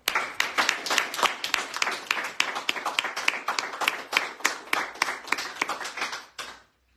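A studio audience at a French radio show claps in a lively, crisp burst of hand claps that holds steady for several seconds and then stops abruptly.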